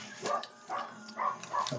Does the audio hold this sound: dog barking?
yes